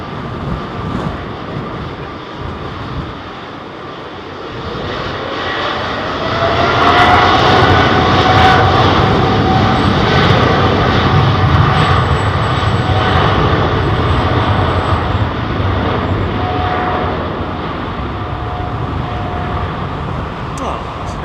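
Jet airliner taking off at London Heathrow Airport, a loud roaring engine rumble that swells and holds as the aircraft passes close, with wind buffeting the microphone and people talking over it.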